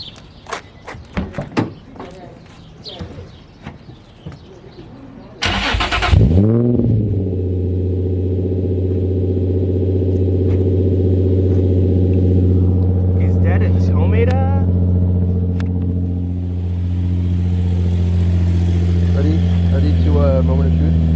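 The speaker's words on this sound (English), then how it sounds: "let's turn the car on and we'll see. Cold start for the boys." An Infiniti G35 engine cold-starts after a repair of its window motor. Faint handling noises come first, then a loud crank that catches into a steady, close idle holding for many seconds, with brief voices near the start.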